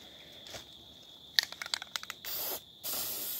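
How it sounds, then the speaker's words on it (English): Spray paint can applied to a BB gun barrel: faint hiss first, then a quick run of sharp rattling clicks, followed by two loud steady bursts of aerosol spraying with a short gap between them. "I've just freaking spray painted the barrel of the goon."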